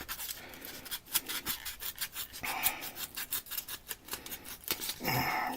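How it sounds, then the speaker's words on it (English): An X-Acto craft knife scrapes and cuts in short rubbing strokes, close and fairly quiet, while cutting material for a model-making project, with a brief harsher burst near the end. "So of course, we're just going to use an X-Acto knife."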